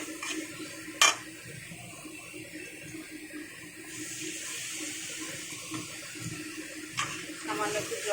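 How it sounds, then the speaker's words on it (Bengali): Water is poured into a ground spice paste of turmeric, coriander and cumin while a vegetarian mixed-vegetable dish cooks, giving a steady splashing hiss with a sharp clatter near the start. "সামান্য একটু জল দিয়ে দিলাম,"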